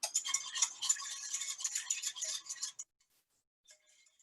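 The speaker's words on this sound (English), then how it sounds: "I'm gonna whisk it in." Ground flaxseed is whisked into liquid in a small container. About three seconds of rapid, light, rattling whisk strokes are heard close up, then near silence with a brief faint tap.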